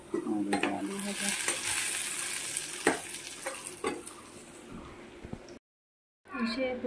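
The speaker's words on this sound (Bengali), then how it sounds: "আলু ভাজা আগে হয়েছে, তারপর উস্তা ভাজা করলাম" Bitter gourd frying in a pan in a home kitchen, a steady close sizzle with spatula stirring and scraping, occasional utensil clinks, before a brief silence and then renewed sizzling.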